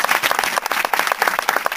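Church congregation clapping in quick, uneven bursts of many hands, loud and close, with the crowd's clapping carrying on continuously throughout.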